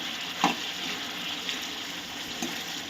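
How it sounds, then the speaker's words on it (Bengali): Potatoes and cauliflower fry in oil with spices, a steady low sizzle running throughout, with a few soft stirring scrapes at intervals. "তাই আলু ফুলকপিটাকে ভালো করে কষিয়ে নেবে মশলার সাথে।"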